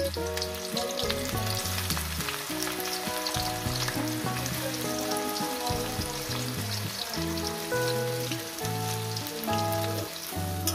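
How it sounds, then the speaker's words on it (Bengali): Onions frying in hot oil in a wok for chicken curry, a dense steady sizzle and crackle running throughout, loud and close, with no talking over it. "তেলটা গরম হয়ে গেছে, আমি পেঁয়াজটাকে প্রথমে ভেজে নেব"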